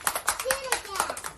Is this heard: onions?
no